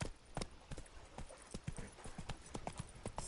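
Roach the horse's hooves clip-clop in a quick, steady rhythm on the ground in The Witcher 3: Wild Hunt, close and clear with no talk over them.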